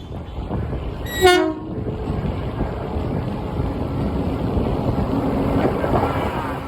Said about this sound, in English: They rumbled, announcing the train's arrival.